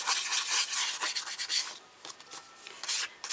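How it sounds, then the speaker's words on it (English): Hand rubbing over a surface to smooth it, a soft, dry, rasping scrape in quick uneven strokes, fairly faint and close, with no talking. "And I just keep rubbing so it's nice and smooth."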